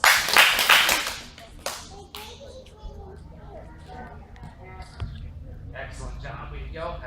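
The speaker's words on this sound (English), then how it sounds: "Let's give Lincoln 3 claps." A group claps in unison a few times at a children's belt ceremony, sharp and loud at the start, followed by a stretch of quieter talk and room noise.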